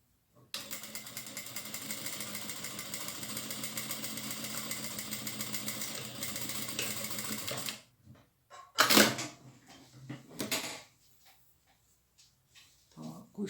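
A domestic sewing machine runs a steady stitching seam on a drawstring backpack-style tote bag for about seven seconds, then stops, leaving short clicks and handling noises of fabric being adjusted.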